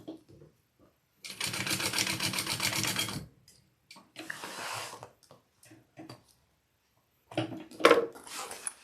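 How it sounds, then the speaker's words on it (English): Sewing machine running in two bursts, a long steady stitching run then a shorter one, basting a small tab piece onto the bottom of an Aimani backpack, with soft handling clicks and rustles between runs. "I'm putting this little tab piece along my bottom first and basting that on."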